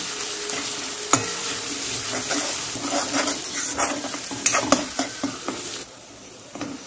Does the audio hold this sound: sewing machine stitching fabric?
no